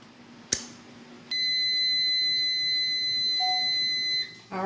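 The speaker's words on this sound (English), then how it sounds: "All right, our timer has gone off." A kitchen timer goes off during peach jelly canning, sounding a steady, loud electronic beep that holds for about three seconds and then stops.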